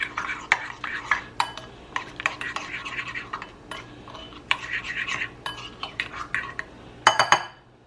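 Seasoning with half a teaspoon of peppercorn stirred in a bowl for spicy garlic noodles with shrimp, giving repeated close scraping and clinking strokes in irregular bursts, with a louder flurry near the end.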